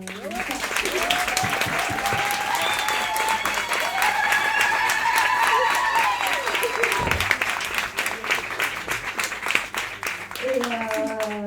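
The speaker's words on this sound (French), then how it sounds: "Peut-être qu'on peut l'applaudir." Audience applause for the organizer at a round-table event, steady clapping sustained throughout, with people talking and calling out over it.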